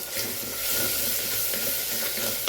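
Tomato and curry leaves sauté in a pan for sambar with a pinch of turmeric, giving a steady, close sizzle and hiss with light stirring scrapes throughout.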